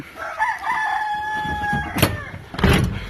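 A rooster crows nearby in a hen brooding coop, one long drawn-out call followed by short clucking bursts, loud and clear with no talking.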